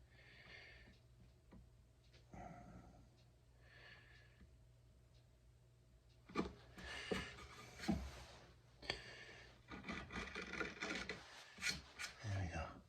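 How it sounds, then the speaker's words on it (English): Hand chisel working a mahogany neck block for a guitar, with soft scraping and paring strokes in irregular bursts that grow louder and denser toward the end, close and quiet. "Mahogany is so much nicer to chisel."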